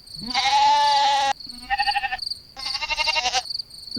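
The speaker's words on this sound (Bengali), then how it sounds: "এত রাতে ছাগল ডাকছে কেন" Goat bleating at night in an animated Bengali moral story: three loud, close bleats, the first long and sustained, the next two shorter and wavering, with brief gaps between.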